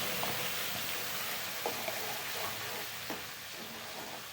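A ground masala paste for fish curry sizzles and fries in hot oil, a steady close hiss broken by a few soft stirring scrapes.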